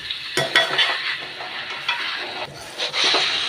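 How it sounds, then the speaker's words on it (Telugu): Chicken frying in a kadai with coriander and two sprigs of curry leaves, a steady close sizzle broken by scraping stirs and clinks of a spatula against the pan, with no voices. "కొద్దిగా కొత్తిమీర రెండు రెమ్మలు కరివేపాకు వేసుకొని బాగా ఫ్రై చేసుకోవాలి"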